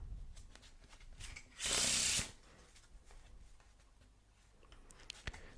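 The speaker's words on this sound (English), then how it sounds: "This is called a Pharaoh shuffle, in which the cards just weave in between each other like that." A quick riffle of playing cards in a Pharaoh (faro) shuffle, a brief loud burst of weaving cards in the middle, surrounded by quiet handling and soft rustles.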